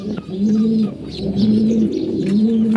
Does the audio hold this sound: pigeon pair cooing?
yes